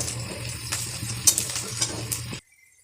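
Cumin seeds are added to hot oil with onions that are nearly done frying, and the pan gives a steady crackling sizzle with a few stirring clinks. The sound cuts off abruptly.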